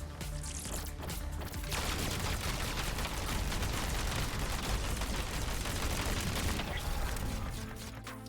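Sustained machine gun fire in the video game Mini Tank Mayhem, a dense unbroken rattle of rapid shots with booming impacts, loud and continuous before easing slightly at the end.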